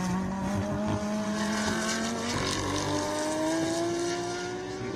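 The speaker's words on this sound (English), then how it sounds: "See the TC kicking in there on that Audi as he accelerates off that tight turn 7" An Audi GT-X race car accelerates hard out of tight turn 7 at a road-course race, its engine note climbing steadily and loud throughout, with traction control audibly cutting in.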